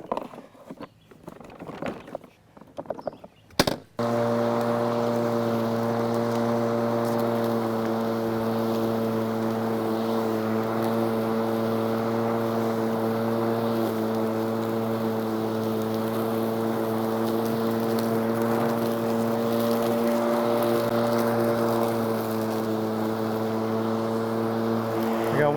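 A Litheli 40-volt 18.5-inch brushless battery lawn mower starts abruptly after some brief handling sounds and then mows without its bagger, running as a steady close electric hum with a whirring blade.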